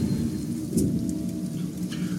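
Video game rain patters steadily with deep rumbling thunder beneath it, a soft, fairly quiet storm ambience with a couple of brief brighter crackles and no voices.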